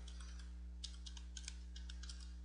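Quick, close keystrokes on a computer keyboard while HTML code is typed, coming in short uneven bursts over a steady electrical hum, with no voices.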